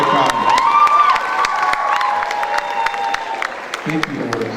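A crowd at a stage play performance claps and cheers loudly, dense close applause with shouts and whoops throughout, a few voices rising above the clapping.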